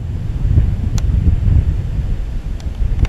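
Wind gusting outdoors in Crete during a kite-flying custom, a steady low rumbling buffet against the microphone with brief faint ticks, no speech.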